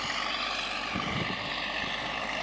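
A Kirovets K-701 tractor pulling a plough across a field gives off a steady, loud engine roar that holds constant throughout, with no speech.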